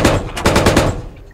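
Rapid automatic gunfire in the video game Squad rattles out in a loud, close burst of about half a dozen shots, followed by a short pause and a single sharper report at the end.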